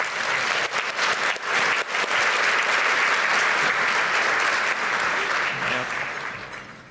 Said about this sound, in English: Let's give a round of applause for Extend Your Reach.